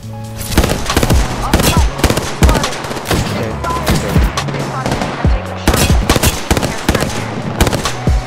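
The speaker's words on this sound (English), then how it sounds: "Oh, that's an airstrike" Airstrike in a shooter video game, a loud barrage of rapid, irregular explosive impacts and blasts landing close by in quick succession for several seconds.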